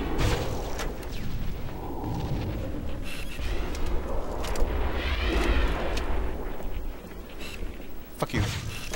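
Rocket fire and explosions in Halo, a steady rumble of booms and blasts during a battle in the Assault on the Control Room level, continuous and fairly loud throughout.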